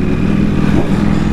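A motorcycle engine running steadily and loudly up close, a continuous low rumbling drone with no break.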